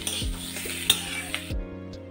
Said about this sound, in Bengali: ক্যাপসিকাম আর গাজরটা অনেকটাই ভাজা ভাজা হয়ে গেছে